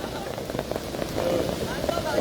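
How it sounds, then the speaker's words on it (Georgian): Steady rain patters on surfaces during an outdoor street protest, driven by gusts of wind that add a rough, blustery roar, loud and close throughout. "როგორც ხედავთ, არა მხოლოდ წვიმს, არამედ ქარიც არის"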